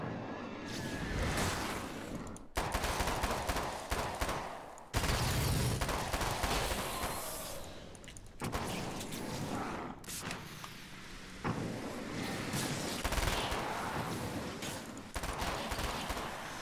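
Gunfire from a weapon in the video game Alan Wake's American Nightmare, heard as dense, loud bursts of shots and blasts filling the whole stretch, separated by brief sharp cuts.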